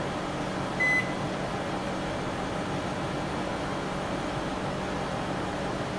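A built-in BOC 606 microwave oven hums steadily after starting, a constant even drone with a single short beep near the beginning and no talking.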